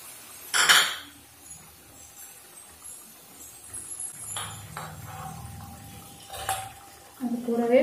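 Scraping and clinking of a utensil against a metal pot while ground coconut and cashew paste is mixed into chicken gravy, with a couple of louder knocks and a faint sizzle underneath; no talking.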